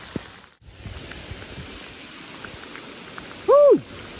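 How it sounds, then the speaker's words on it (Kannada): Heavy monsoon rain pours steadily at K-Gudi in the BR Hills of Karnataka, a dense, even hiss throughout, with a brief clear tonal call cutting through near the end. "ಇದೇ ಫಸ್ಟ್ ಟೈಮ್ ಇಷ್ಟು ಮಳೆ ನಾನು ಬಂದಿರೋದಿಲ್ಲಿ"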